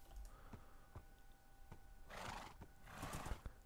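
Two whinnying neighs from a Minecraft horse, fairly loud and close, following a few soft clicks and thumps of in-game movement; no one talks.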